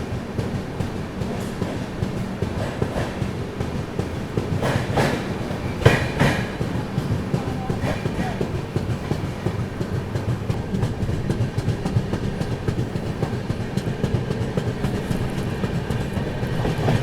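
The Grand Trunk Express rolls out of Amla Junction, heard from inside the last coach: a steady rumble with rhythmic wheel clatter on the rails, continuous and fairly loud, with no talking.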